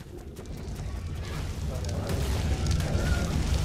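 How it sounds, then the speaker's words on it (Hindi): A bomb goes off in the modded survival game ARK: Survival Evolved, a deep booming rumble that swells steadily louder over several seconds while players talk beneath it. "ये बम बिम फेंक रहा है ये"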